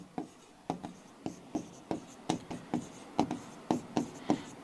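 A pen writes out a math calculation by hand on paper, a close, quiet series of rhythmic scratchy strokes and taps, about a dozen in a few seconds, with no voices.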